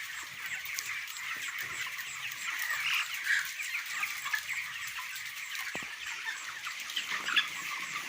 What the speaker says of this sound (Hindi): ये देखिए, ये डे 26 का चिक्स है